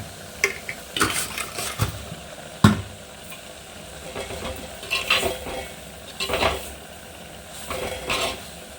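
Prawn roast masala sautéing in a pan with onions, a scattered run of spatula scrapes and clinks over a low steady sizzle, fairly close and alone.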